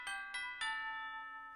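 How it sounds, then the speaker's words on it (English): A house doorbell plays a tune, three bright chime strikes in quick succession with each tone ringing on and slowly fading, clear and close. "Well, that's my doorbell."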